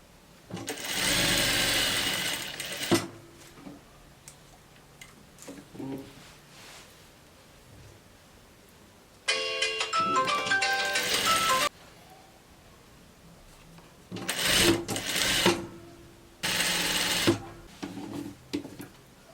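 A sewing machine stitches a dress sleeve hem, reversing to backstitch at the start; several separate bursts of steady mechanical whirring, each lasting a few seconds with pauses between, close and fairly loud.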